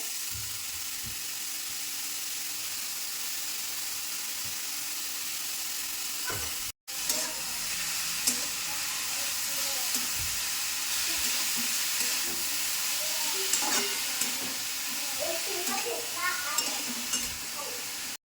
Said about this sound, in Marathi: आपण हा गाजराचा किस तुपामध्ये असा छान प्रकारे मस्त परतून घेऊयात